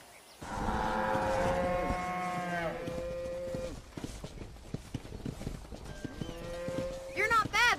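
A cattle herd being driven out to pasture on a ranch in Red Dead Redemption, with long, loud moos from several cows, faint hoof clatter and people talking between the calls.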